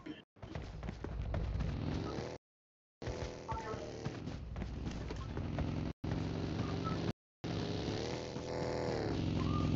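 A car engine revving and driving in PUBG Mobile, loud and close, with rising and falling engine pitch broken by a few abrupt silences.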